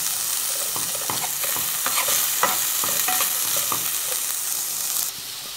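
Onions stir-frying in a pan for savory Ramadan pastry filling, a steady close sizzle broken by frequent scraping strokes of the spoon, ending with a slight drop in level; no talk.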